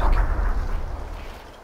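Grenade blast in the PUBG video game, a heavy booming explosion that hits loud at once and then rumbles away over under two seconds.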